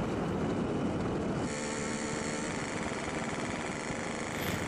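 A warm two-stroke motorcycle engine running on SPC 2T special oil idles at low RPM with a steady, buzzing drone and fairly even tone, close and continuous with no talking.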